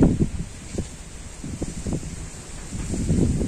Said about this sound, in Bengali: আর প্রচুর হাওয়া দিচ্ছে।